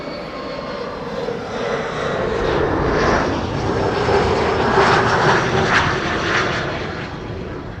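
An airliner arriving on the Kaagbaan runway at Amsterdam Schiphol roars past with a broad engine rumble and whine that swells toward the middle and fades gradually, heard from nearby in open air.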